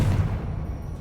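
A Confringo blast spell in the game Hogwarts Legacy lands as a single brief low boom that fades quickly, heard close and fairly loud.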